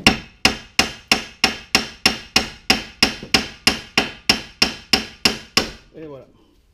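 Steel hammer blows ring out against a wheel bearing hub on a 2012 Hyundai Accent, about fifteen sharp, evenly spaced strikes close up, each decaying quickly, followed by a short scraping rattle.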